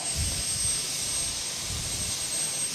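A T-53 Lycoming turbine engine powers a pulling tractor at a county fair tractor pull, giving off a steady, loud jet-like whine and roar with no voices.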